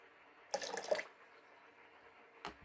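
Room-temperature water pours into canning jars of fresh pineapple in a short, close splashing burst, then a brief second trickle after a quiet pause.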